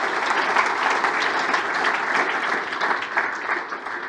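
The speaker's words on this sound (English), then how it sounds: "Could we just a round of applause for our speakers?" Sustained applause from a conference audience for the speakers at an agribusiness event, a dense, steady wash of many hands clapping at even loudness throughout.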